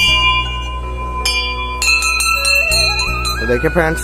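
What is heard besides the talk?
temple bell being rung at a Shiv temple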